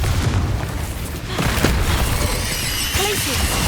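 A Confringo spell blast from Hogwarts Legacy crackles and booms amid layered combat effects, a sharp impact near the middle and shattering debris; a voice talks under it.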